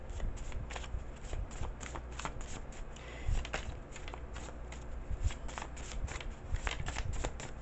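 A deck of cards being shuffled by hand, close and crisp, with repeated riffling bursts and flutters in an uneven rhythm through the whole stretch.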